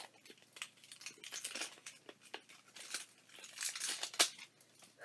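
Crinkly plastic packaging is torn and pulled open from around a Half Caked lip fondant. Close, fairly quiet rustling and crackling come in irregular bursts, with one sharper snap near the end.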